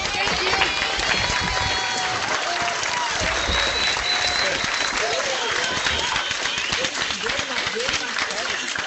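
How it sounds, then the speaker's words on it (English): Several online groups unmute their mics for Mr. Brown, producing dense, continuous applause and clapping mixed with cheers and overlapping voices. "join me in saying thank you and giving a round of applause for Mr. Brown?"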